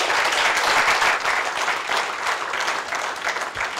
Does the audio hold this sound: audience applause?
yes